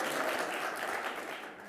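Audience applause at a business breakout conference session, a dense steady wash of clapping from a room full of people that fades slightly toward the end, with no talking over it.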